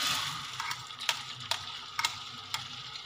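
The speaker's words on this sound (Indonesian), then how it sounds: "minyak dah panas, sekarang cik nak goreng" Eggs fry in sizzling hot oil in a pan while a utensil clinks and scrapes a few times at irregular intervals, close by.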